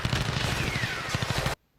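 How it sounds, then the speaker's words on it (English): Gunfire from outside, heard as a rapid burst of many sharp shots like a fusillade, loud and dense for about a second and a half before it cuts off abruptly into silence. "there were gunshots coming from outside"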